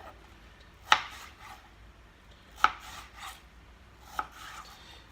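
A knife cuts fresh vegetables into thin strips for a wrap, with three distinct, spaced chopping strokes against a board in a quiet kitchen.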